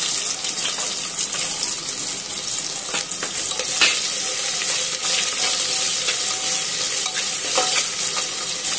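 Onions frying with dry fruits, cardamom and cinnamon in a pan over low heat for veg pulao, a dense, loud, steady hiss and sizzle with occasional stirring scrapes throughout.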